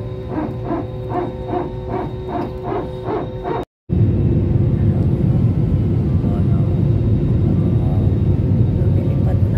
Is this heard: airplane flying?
yes